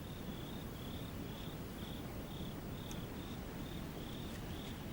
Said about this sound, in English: All one can hear in the distance is the sound of crickets.